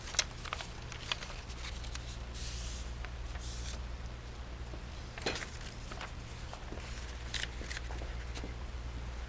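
Paper kaleidocycle pieces are folded over by hand, producing soft, close crinkling and creasing rustles in irregular bursts over a low steady hum, with no talking.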